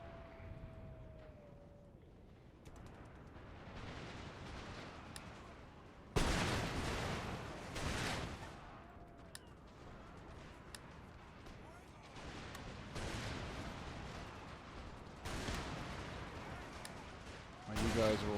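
Massed musket volleys and artillery fire in the Empire Total War battle: a continuous crackle of gunfire with repeated loud booming salvos, persisting at moderate distance with a voice speaking over it.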